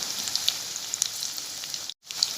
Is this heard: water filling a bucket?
no